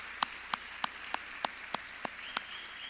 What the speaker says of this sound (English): I know Lisa Huffman needs an applause for herself